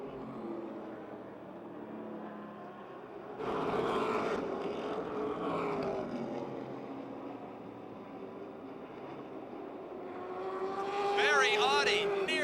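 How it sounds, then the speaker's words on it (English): Super late model race cars lap Motordrome Speedway with a distant, droning engine roar that swells as the pack passes, and high whining revs near the end under a race announcer's commentary. "Joe Moose, the lap car, forces single file racing."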